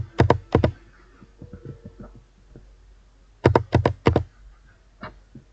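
A password is typed on a computer keyboard in two short bursts of crisp, closely miked keystrokes, with a few softer isolated taps between them and no talk.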